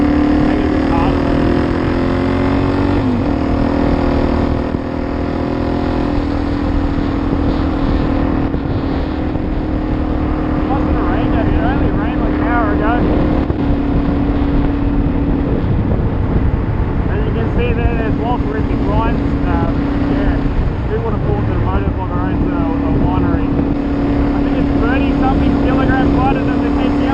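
A Suzuki DR-Z 400E motorcycle on knobby tires cruising at about 80 km/h, giving a loud, continuous engine drone with heavy wind rush; a rider speaks over the noise.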